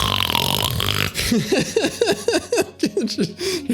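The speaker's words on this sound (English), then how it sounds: "Lets out a giant snore." A character in the video game Rune Factory 5 lets out a big, rhythmic snore, a series of short snorting pulses after a burst of game music, close and alone.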